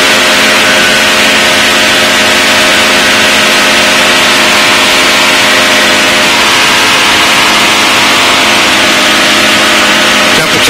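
An aircraft engine running in flight at 5,300 RPM after a radiator change, a loud, steady, continuous drone with layered tonal hum and broad rushing noise, unbroken throughout with no speech.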